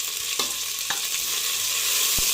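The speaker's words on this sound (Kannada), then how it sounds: "ಇವಾಗ ಈರುಳ್ಳಿನ ಚೆನ್ನಾಗಿ ಫ್ರೈ ಮಾಡ್ಕೊಳ್ಳಿ" Onions sizzling steadily in a hot pan with freshly added mint while mushroom sambar is being made, with a few light clicks of stirring over the continuous close frying hiss and no talking.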